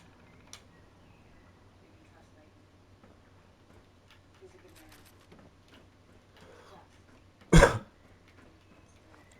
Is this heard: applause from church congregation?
no